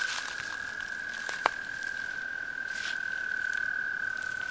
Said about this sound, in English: We got a couple toads here.